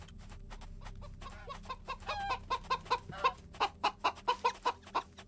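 A chicken in the farming video game Back to Blossom clucks in a rapid, rhythmic series of short calls that grow louder and more regular, heard clearly over a low game background.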